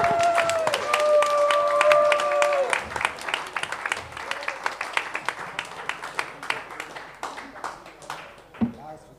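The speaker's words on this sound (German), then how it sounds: "ein extra Applaus" An audience gives sustained applause that lasts several seconds, with dense clapping early on, sustained tones like voices or cheers mixed in at first, and the clapping thinning into scattered claps toward the end.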